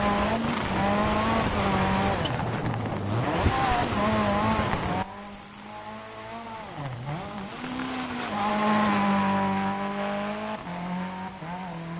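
A Ford Fiesta WRC rally car from the 2010s drives a Finnish stage in DiRT Rally, its engine loud and close, revving up and down through gear changes, with a sharp drop in pitch partway through.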